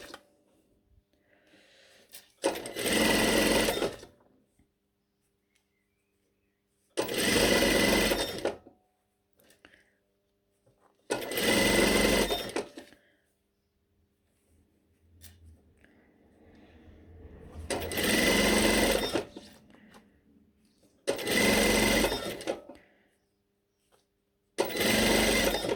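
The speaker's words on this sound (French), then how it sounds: "Et je viens piquer au ras" A sewing machine stitches close along a piping cord while making a zipped-fly pair of shorts, running in about six loud, close bursts of rapid whirring separated by quiet pauses, with no talking.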